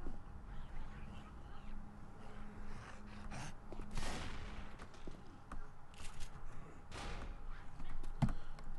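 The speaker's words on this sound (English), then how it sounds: "Shotguns let them fight each other. What's going on there? What are you shooting at?" Shotgun fire echoes through an underground tunnel in a video game as scattered dull blasts and thuds under a constant background rumble, with someone talking over part of it.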